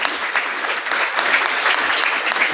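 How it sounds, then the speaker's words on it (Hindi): A congregation claps steadily in welcome for a guest from Sri Lanka, a dense, sustained burst of many hands at close range with no voices standing out. "भरपूर तालियों के साथ उनको खुश आमदीद कहते हैं।"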